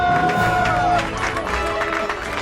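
Crowd at a coffee charity event clapping and cheering, a dense wash of applause and shouts with a voice rising over it, loud and close.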